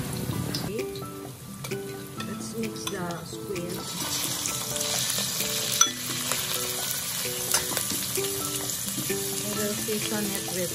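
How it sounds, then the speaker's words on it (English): Ginger sizzling in hot oil in a preheated mini wok, a constant crackling fry with occasional pops, while music plays underneath. "let's preheat our mini wok with oil, and I will saute my ginger."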